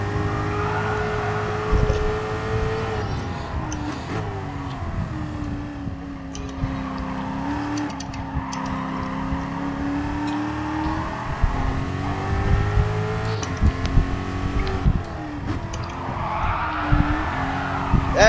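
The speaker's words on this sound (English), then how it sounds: "But I love the sound of this Ford GT." Ford GT race car in a PS4 racing game, its engine droning and rising through gear changes with tire squeal and other cars around, loud and continuous for the whole stretch.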